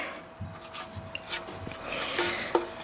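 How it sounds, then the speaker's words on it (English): A spatula scrapes cake batter out of a bread machine container, producing short rubbing and scraping strokes with small clicks, fairly quiet and close. "Let's scrape it there."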